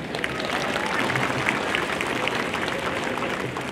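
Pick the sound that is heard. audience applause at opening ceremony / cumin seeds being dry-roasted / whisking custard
audience applause at opening ceremony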